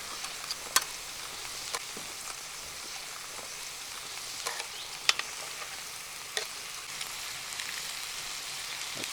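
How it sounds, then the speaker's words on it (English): Potatoes simmering in a pan over a camp fire pit at an outdoor 4x4 camp kitchen: a steady, low sizzling bubble with scattered sharp pops and crackles, close by, with no talking. "so I can just simmer my potatoes on there."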